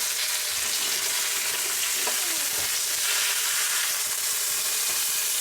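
Fish fries in butter in a pan, a loud, steady, close sizzle with a few faint clinks and bubbling pops mixed in and no speech.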